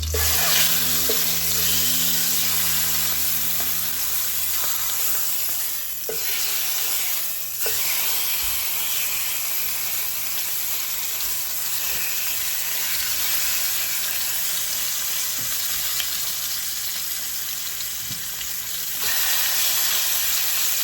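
Marinated chicken fries in vegetable oil with a loud, continuous sizzle and crackle that runs steadily throughout, with a couple of brief dips; no one speaks.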